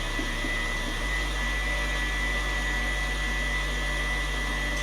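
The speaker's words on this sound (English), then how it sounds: "raise up the mixer. And then let it do that for about 2-3 minutes" An electric mixer beating gooey cake batter with cream cheese and powdered sugar gives a loud, steady motor whir, its pitch dropping slightly about one second in and then holding.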